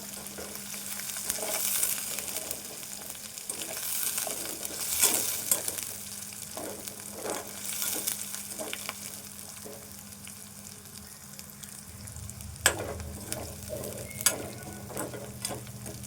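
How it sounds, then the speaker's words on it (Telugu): Onion, ginger-garlic paste and curry leaves sizzle steadily in a hot pan, a continuous frying hiss with occasional stirring scrapes and clicks of a utensil against the pan, no voices. "ఈ ఉల్లిపాయ, అల్లం వెల్లుల్లి పేస్ట్ కూడా వేగాలి, పచ్చివాసన పోయేదాకా."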